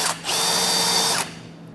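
A power drill runs with its bit against a Curt base plate on a 2015 Jeep Wrangler Unlimited, a steady loud whirring burst of about one second that stops abruptly, with no talking.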